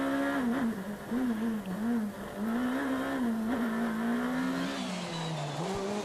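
Skoda S2000 rally car on a special stage with many direction changes, its engine revving steadily and loud and close, pitch dipping and rising through the corners, with faint tire noise.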